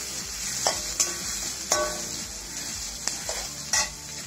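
Onions frying in a pan for tomato rice give a steady, close sizzle, with a few sharp clinks of a spoon stirring against the pan.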